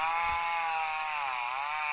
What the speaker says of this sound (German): das oh Gott, die Kettensäge schon wieder.